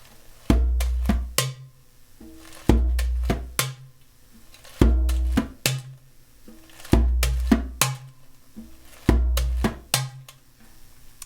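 A hybrid drum kit groove played with one hand and one brush, with deep booming kick hits and sharp hand and brush strikes in repeating clusters of four sixteenth notes, loud and close with no voices.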